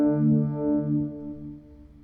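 Electric guitar runs through a vibe pedal followed by Catalyst and OCD pedals, giving a spacey, warbling tone. A single held chord swells and slowly fades, close and alone.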